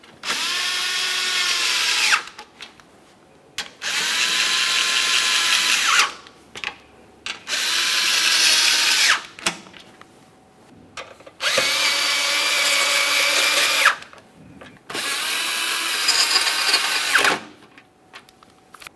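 A cordless power tool drives the lower mounting bolts on a 2017-2024 GMC Acadia radiator cooling fan assembly, five long whirring bursts of one to three seconds each, separated by short silent gaps.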